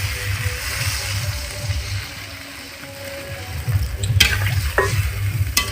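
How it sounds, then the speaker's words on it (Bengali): Mutton curry sizzles and is stirred in a pan as water is added: a steady hiss of frying with scraping, rhythmic stirring strokes and a brief splashy burst near the end, no talking. "এখন আমি দিয়ে দেব জল"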